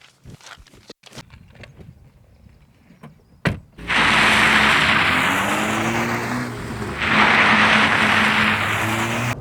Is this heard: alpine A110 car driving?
yes